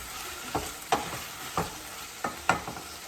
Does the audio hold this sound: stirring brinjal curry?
yes